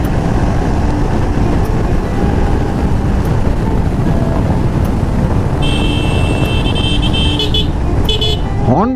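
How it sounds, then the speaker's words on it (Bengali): Vehicle horns sound from busy traffic in the distance, with short tonal honks rising near the end over a steady roar of passing cars and wind. "হর্নগুলো ছোট হয়ে গেছে বুঝছেন"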